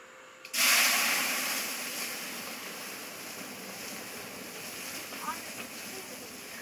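Hot rocks dropped into a batch of bock beer make a sudden loud hissing, bubbling rush that erupts at once and keeps up as a steady roaring boil-over, with faint voices in the background.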